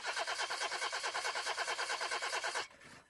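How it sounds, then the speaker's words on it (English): Car engine cranking but failing to start as a radio ad sound effect, a fast rhythmic starter chug repeating for over two seconds before cutting off abruptly, fairly close and alone. "Car won't start?"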